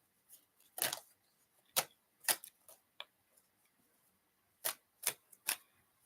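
Tarot cards being shuffled in short, crisp bursts of riffling and snapping, close and dry, separated by pauses of near silence.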